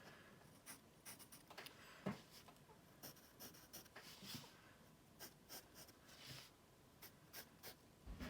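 Pencil scratching lines across paper during a simple perspective sketch, a series of short, quiet strokes with brief pauses between them, close up and with no voices.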